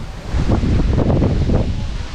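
Strong gusts of wind rush through foliage, a close, loud rustling roar with no voices.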